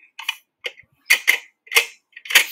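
A Nerf gun being loaded, a series of sharp plastic clicks and clacks in short separated bursts, close and crisp against near silence.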